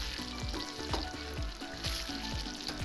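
Chicken roast frying in a pan, a steady close sizzle with soft repeated scraping as it is stirred, and no one speaking.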